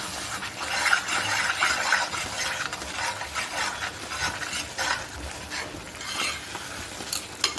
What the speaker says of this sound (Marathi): आता चांगलं तेल सुटेपर्यंत फ्राय करून घ्यायचं.